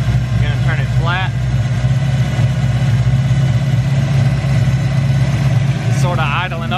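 A carbureted Ford Mustang SN95 engine idles steadily with a low, even rumble, running lean and idling up slightly, and a few brief chirpy sounds rise over it at the start and end.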